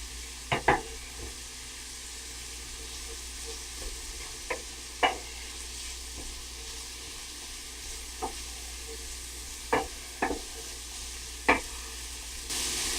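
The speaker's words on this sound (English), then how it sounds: "I'm going to go ahead and add some of my chopped garlic at this time as well." Chopped garlic hits a hot pan and sizzles in a steady frying hiss, with about a dozen sharp clicks and taps of a spoon or utensil against the pan scattered throughout, no talk.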